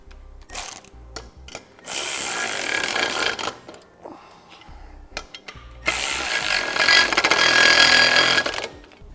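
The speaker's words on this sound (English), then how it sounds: "3/8 nuts, and we'll snug those down with the 9/16." Nuts being run down with a wrench during an air helper spring installation, two long bursts of loud whirring tool noise separated by short clicks and pauses.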